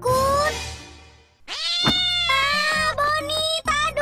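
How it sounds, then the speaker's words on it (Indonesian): A cat meows loudly and close by, first with a long wavering call, then after a short gap with a series of strained, drawn-out meows and yowls in quick succession. "Kucingnya ngejar aku."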